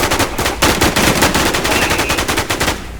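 Rapid automatic gunfire in the Infestation shooter game, dense bursts of shots filling the whole stretch at loud, steady volume with no talk over it.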